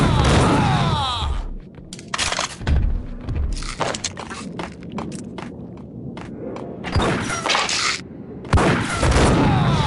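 Max Payne gunfire as loud, abrupt shots and booms in irregular clusters, separated by brief quieter gaps of rumbling game ambience.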